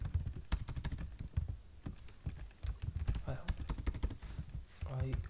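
Keys clatter on a computer keyboard while C++ code is typed, a brisk, irregular run of close clicks going for several seconds with brief pauses between bursts.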